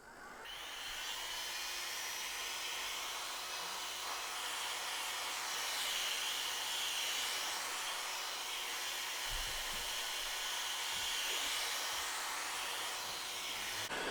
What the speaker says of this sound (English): I might as well just do them with the heat gun because I've already got it out